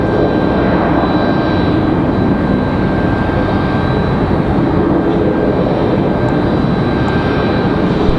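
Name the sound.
CRJ 900LR jet airliner arriving at Raleigh Durham airport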